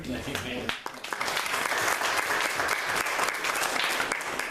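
A church congregation breaks into loud, sustained hand clapping after a short stretch of someone speaking, the clapping filling the room, dense and even, continuing to the end with occasional voices under it.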